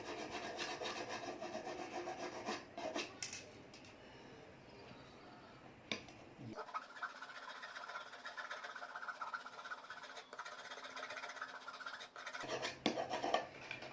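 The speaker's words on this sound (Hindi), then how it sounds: "ये रेती है, इसको आप इस तरह से आप इसको घिस सकते हैं।" A rasp file rubs back and forth along a wooden arrow shaft, giving close, steady scraping strokes that continue through a short quieter stretch in the middle.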